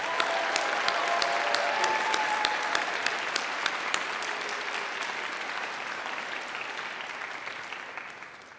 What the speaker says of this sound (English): So now, let's everybody give an enthusiastic round of applause for our percussionist, Tom Ryden.